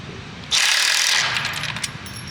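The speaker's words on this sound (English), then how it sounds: "You gotta remove this bolt back here." A power tool bursts on to remove an exhaust bolt on a Yamaha R7 motorcycle, a loud close whirring rattle that runs for under a second and then fades into brief ratcheting clicks.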